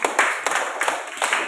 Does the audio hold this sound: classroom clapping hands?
yes